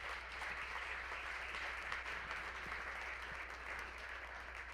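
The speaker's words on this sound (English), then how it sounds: "Would you guys you. please give them a round of applause?" A church parent-talk audience applauds a panel of speakers, giving a soft, steady patter of clapping that sounds distant and fairly quiet and carries on without a break; no voices over it.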